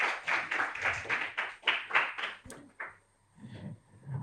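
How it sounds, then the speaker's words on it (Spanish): Audience at a youth internet governance forum clapping for a panelist being introduced, a sparse scattering of claps in uneven bursts that fades out, followed by faint quieter sounds. "Un aplauso."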